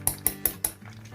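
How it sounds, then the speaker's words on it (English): A spatula scrapes through gram flour and desi ghee in a kadai over a low flame, with four sharp metallic clinks about a fifth of a second apart, then a quieter, softer scraping. "Here I am using a spatula for mixing it."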